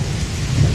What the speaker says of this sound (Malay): Hujan masih turun dengan lebatnya.